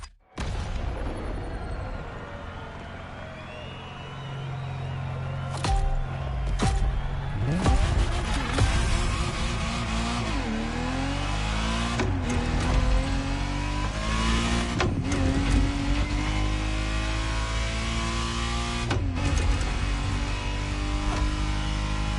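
A Ferrari Testarossa engine from The Crew Motorfest racing game drives and revs continuously, its pitch rising and falling through gear changes, loud and close with sharp bangs scattered throughout.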